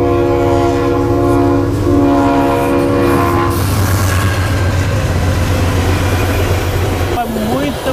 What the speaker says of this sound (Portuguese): Muito vagão de trem